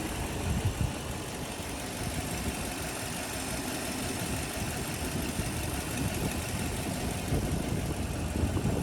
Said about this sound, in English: Engine is currently on. You can hear everything runs smooth,